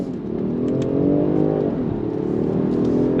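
A 2025 Range Rover Sport Autobiography plug-in hybrid accelerates hard on throttle, the engine rising in a smooth, loud drone from inside the cabin, briefly dipping at a gear change before climbing again.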